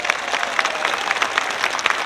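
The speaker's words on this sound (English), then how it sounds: "a massive round of applause for Pat" A crowd claps steadily at the opening of a motor museum, a dense, lively round of applause with sharp individual claps standing out, without any speech.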